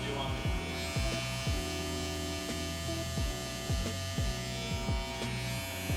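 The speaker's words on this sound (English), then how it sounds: "I'm using the full clipper and the corners" Cordless Wahl Vapor electric hair clippers buzz steadily while cutting a mid fade, a constant mains-like hum with rhythmic dips and swells as the blade passes through the hair, close and fairly quiet.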